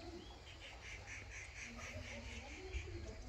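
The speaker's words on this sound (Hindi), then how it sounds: "देखिए पक्षी कितनी अच्छी अच्छी आवाज़ें निकाल रहे हैं" Morning birds calling outdoors, with a run of repeated chirping notes and a few lower squawks, faint against a steady background hiss, all without talk.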